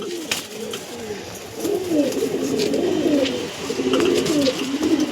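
Several Andhra and star kalangka pigeons at a pigeon seller's house cooing close by, overlapping throaty rolling coos repeating in waves over a constant background hum.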